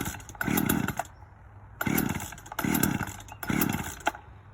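A chainsaw being started pops and sputters in four short, loud, close bursts separated by brief gaps, each a rough engine catch that dies away without settling into a steady idle.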